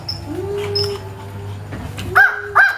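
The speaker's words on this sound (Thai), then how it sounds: "โอ้ยไม่ต้องเห่าลูก" A dog indoors gives short whimpers and yips followed by two sharp barks near the end, fairly close, over a low background hum with no speech.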